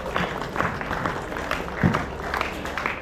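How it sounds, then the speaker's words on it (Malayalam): Faint, scattered audience clapping at a Kerala street magician's outdoor show, irregular hand claps at a distance with soft background noise. "ഒന്ന് കൈയടിക്കണം കേട്ടോ."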